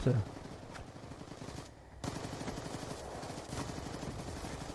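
SMG fire in the video game Black Ops 2, short rapid bursts repeating through a match, with one brief pause, heard alone.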